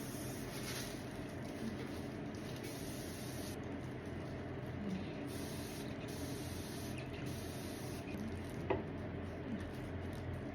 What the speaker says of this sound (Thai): พ่นบางๆนะคะอย่าพ่นหนานะคะ